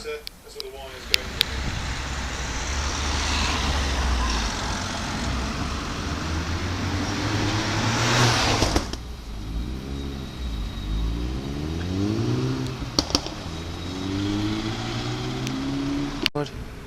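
A bus engine rumbles steadily on the road toward Risca, heard from inside with a low droning hum, road noise and a gear change midway as the pitch rises and falls, with a person talking over it.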